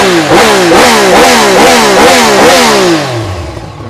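A used big bike motorcycle engine revving repeatedly, close and loud, in a steady series of rising throttle blips before settling toward idle.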